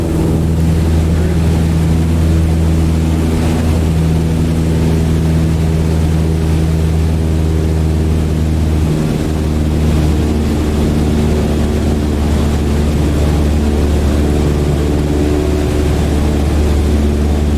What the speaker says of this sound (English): let's start by easing the throttle back to 1800 RPMs